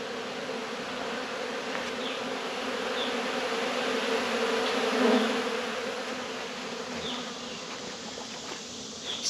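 A dense, steady hum of many honey bees buzzing close by during a late-July honey harvest, swelling slightly in the middle, with no talking.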